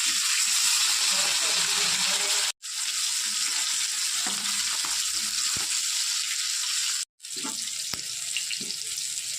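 Hilsa fish sizzling loudly in hot oil in a wok after being flipped, a dense continuous fry broken by two brief silent gaps.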